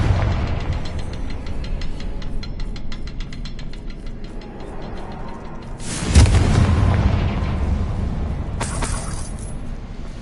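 A Confringo fire spell in Hogwarts Legacy bursts into a loud booming explosion, and a second blast follows, over a low rumbling game backdrop with no talk.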